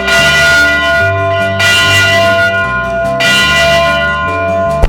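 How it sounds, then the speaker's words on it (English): A large bell rings at a historic site in Vancouver, struck repeatedly in a slow, steady rhythm, each loud, ringing strike blooming and overlapping the previous one's long tail, with no talking. "Now I'm gonna go ring the bell."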